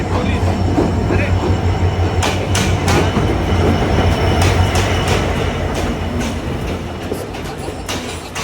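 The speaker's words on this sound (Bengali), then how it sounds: "ট্রেন আসছে আমাদের।" A train pulls into a station at night in Sri Lanka, its loud rolling rumble and clacking wheels steady and close throughout, with a long low hum and faint voices in the background.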